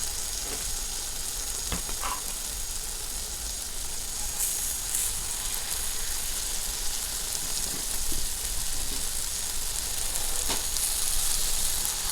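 Steady frying sizzle of yeast pancake batter with apples in hot oil, a continuous crackling hiss with occasional pops and clinks, close and even throughout.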